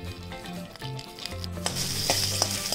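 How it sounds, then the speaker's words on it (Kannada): Urad dal, dried red chillies, curry leaves and asafoetida tempering in hot oil, a bright crackling sizzle that swells after a brief quieter start, with a few stirring scrapes close up. "ಉದ್ದಿನ ಬೇಳೆ ಕೆಂಪಾಗೋ ತನಕ ಹುರ್ಕೋಬೇಕು"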